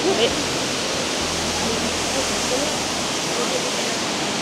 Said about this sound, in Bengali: ঝর্ণা থেকে যে জলটা বেরোচ্ছে, সেই জলটা এখান থেকে বেরিয়ে আবার চলে যাচ্ছে এই গুহার মধ্যে দিয়ে।